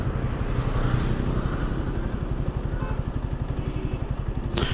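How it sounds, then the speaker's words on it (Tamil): A motorcycle rides through a town, its engine running loud and steady at close range with a regular pulsing throb and some rattle throughout. "ஊருக்குள்ள வண்டி ஓட்டிக்கிட்டு இருக்கிறோம்."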